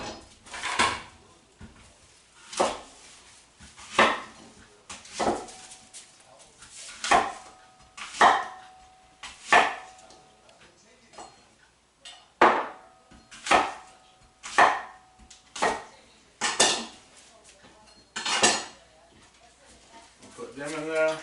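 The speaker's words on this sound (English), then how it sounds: "I'm gonna slice them about 4 apples." A knife cuts through apples on a board in a home kitchen, giving a series of distinct crunchy chops spaced about a second apart, close and fairly clear, with a voice talking intermittently.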